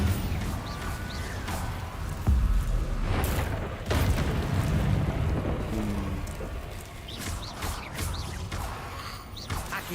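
The Incendio fire spell cast in Hogwarts Legacy bursts out as several rough, crackling whooshes and muffled booms over a continuous hissing, rain-like rumble, repeating across the stretch with no voices.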